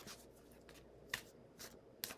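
Tarot cards being shuffled by hand, giving quiet, crisp riffling bursts that repeat about every half second against a hushed indoor room, with no talk.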